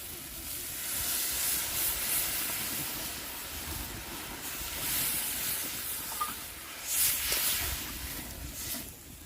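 Papaya and egg curry gravy, with water added to fried spice paste, comes to a boil in a pan: a faint, steady hiss and soft sizzling bubbling that swells slightly now and then.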